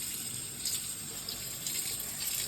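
A part from a Shark HydroVac vacuum is washed out under a running tap, giving a steady hiss of flowing water throughout with slight surges.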